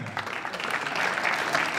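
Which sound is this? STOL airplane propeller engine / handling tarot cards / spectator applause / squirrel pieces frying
spectator applause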